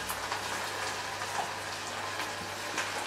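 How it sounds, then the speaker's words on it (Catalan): Boiling water poured onto toasted rice in a pan gives a continuous hissing, bubbling sizzle, steady and close throughout with no talking. "jo ja tinc l'aigua bullint,"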